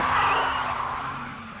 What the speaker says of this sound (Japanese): ドリキン土屋はエキゾーストノートを轟かし、ドリフトサウンドを奏でる。